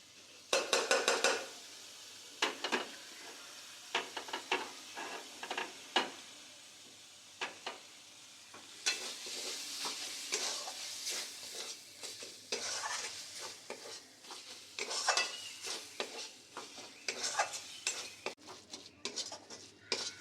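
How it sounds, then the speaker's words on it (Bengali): Boneless katla fish being stirred into fried spice paste in a pan, a spoon scraping and clinking in irregular strokes over a faint sizzle, close and fairly quiet with no voices. "মশলার সঙ্গে মাছটা খুব ভালো করে মিশিয়ে নিয়েছি"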